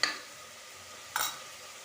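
Mint leaves, coriander leaves and a green chilli sauté in a pan, with two short, soft bursts of sizzle and stirring separated by a quiet pause.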